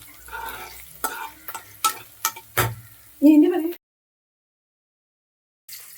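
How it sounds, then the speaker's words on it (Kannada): Curry leaves crackle and fry in oil for a mixed pickle, with a few sharp spatula taps and stirs for several seconds before the sound cuts to near silence. "ಕರಿಬೇವಿನ ಸೊಪ್ಪು ನೀಟಾಗಿ ಆಯಿಲ್ ಅಲ್ಲಿ ಫ್ರೈ ಆಗಬೇಕು"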